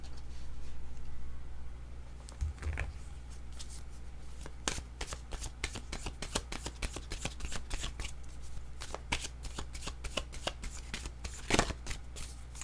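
Oracle cards are shuffled by hand for about twelve seconds in a steady run of close, crisp riffling flicks and soft slaps, with no voices over it.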